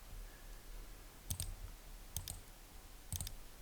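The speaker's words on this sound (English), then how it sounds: "So I'm holding the Shift key down and clicking every single one I want contained within that group." A computer mouse clicks in a software workspace while the Shift key is held, three quiet, crisp double clicks spaced about a second apart against near silence.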